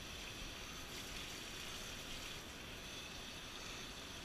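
Water trickles over a shih tzu's nose and face during a bath, a steady, even rush of running water that continues unbroken with no voices.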